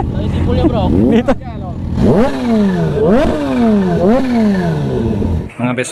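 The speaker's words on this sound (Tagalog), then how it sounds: "lapitan muna nga natin yung motor niyan" A motorcycle engine revs hard several times up close, each rev climbing and dropping in pitch over a steady idle, with voices talking alongside.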